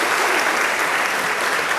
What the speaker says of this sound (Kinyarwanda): mumfashe muhumira amashyi